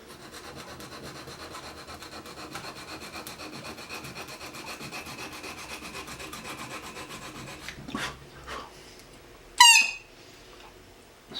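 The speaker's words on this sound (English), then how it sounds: "giving a high pitch squeak in the background, so I'll keep sanding until that squeak's gone" Sanding a reed by hand with abrasive, a steady scratchy rubbing that runs for about eight seconds, then a few separate strokes and a sharp high-pitched squeak near the end, close and fairly quiet.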